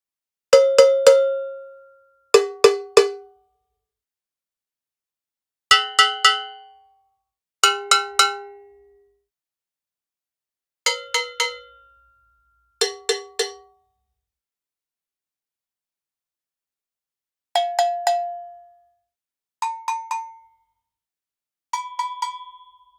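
Bell percussion hits from a sample library, simple and complex bells struck on mouth, neck and side, ring out in short groups of two or three bright metallic strikes with pauses between, each clang decaying quickly.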